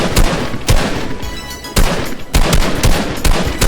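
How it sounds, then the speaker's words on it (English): Repeated gunshots in the Fortnite video game, fired in short bursts of taps at range, loud and sharp with brief gaps between volleys and no talking. "So I'm just gonna do some little taps here from distance"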